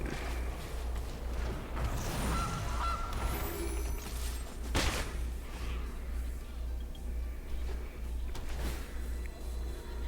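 A goose honk sound effect plays when a card is cast in the digital Magic: The Gathering Ikoria: Lair of Behemoths game. A few honking calls rise over a steady low electronic hum, with a brief sharp burst near the middle.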